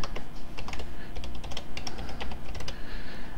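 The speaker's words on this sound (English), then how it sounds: "you type in your username" Rapid clicking of computer keyboard keys as a username is entered, a steady run of close, distinct keystrokes with no voices.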